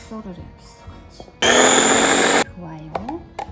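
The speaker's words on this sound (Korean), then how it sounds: "양념을 넣고 믹서를 해야겠어 같이" A kitchen blender whirs loudly for about a second while mixing tteokbokki sauce of soy sauce, salted shrimp, plum extract and honey, with talk before and after the burst.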